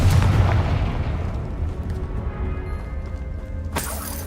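A Confringo spell blast in the video game Hogwarts Legacy, a loud booming burst at the start that rolls into a rumbling tail, with a second sharp crack near the end.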